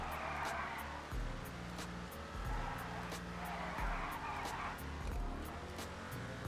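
Engine of a large-displacement car in the GTA 5 Online video game, a steady loud low drone with repeated drops and rises as it accelerates and shifts, plus occasional tire squeal, heard alone.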